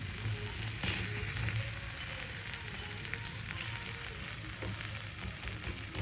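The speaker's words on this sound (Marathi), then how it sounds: "दोन्ही बाजूने छान लाल खरपूस भाजून घ्यायची" A masala chapati, folded and spread with spice paste, sizzles steadily on a hot pan, an even close frying hiss that carries through without a break.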